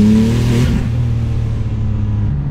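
A 900-horsepower Porsche 911 Turbo SPR1 drones loud and steady with a deep engine note under acceleration, the tone shifting slightly partway through, with no talk over it.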